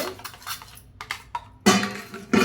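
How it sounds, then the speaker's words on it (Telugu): Two eggs with onions whisked in a bowl for an omelette: rapid clinking and scraping strokes against the bowl come in uneven bursts, softer at first, then a louder, denser flurry near the end. "రెండు ఎగ్స్ వేసుకున్నానండి ఇది బాగా మనం కలుపుకోవాలి"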